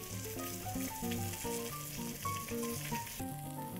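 Chicken pieces browning in a hot pan for Spanish-style chicken, with a steady, close sizzle and frying crackle running throughout beneath a tonal melodic background.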